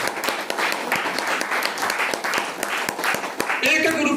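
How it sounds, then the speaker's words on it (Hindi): An audience at a live event bursts into loud, sustained applause, dense clapping filling the room steadily throughout with a few sharper claps near the end. "जोरदार ताली एक बार बजाइए इनके लिए"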